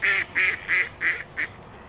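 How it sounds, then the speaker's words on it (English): Ducks quacking outdoors, five loud nasal quacks in a quick, even series close by, with other birds also present. "there's some birds, there's some ducks over here and all kinds of stuff"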